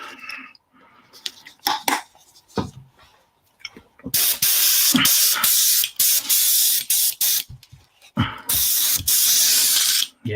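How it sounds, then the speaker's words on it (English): An airbrush sprays cleaner in a few short bursts, then in long, loud, close hissing blasts separated by brief pauses. "So I just whack some airbrush cleaner through my airbrush."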